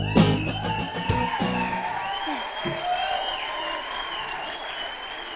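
An awards ceremony audience claps loudly and steadily, with whoops, shouts and cheers rising over the applause near the start before it settles into sustained clapping.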